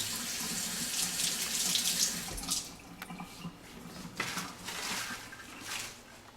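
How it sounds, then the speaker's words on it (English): Tap water runs into a sink while the end of an enema tube is rinsed under it, a close steady splashing rush that shifts and breaks up as the tube moves through the stream. "take the end of your tube and wash it"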